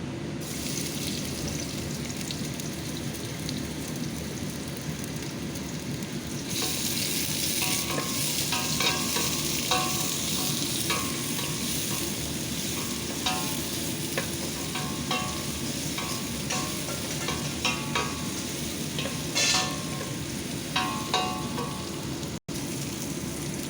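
Capsicum, eggplant, bottle gourd, potato and onion fry in a pan under a continuous sizzle, with frequent spatula scrapes and one sharp knock near the end.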